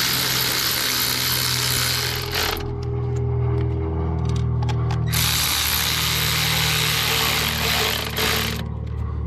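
A tool whirs and clicks in two long bursts with a quieter gap between, tightening the bolts on the lower unit housing of an Evinrude E-TEC 50 outboard, close and continuous with no voices.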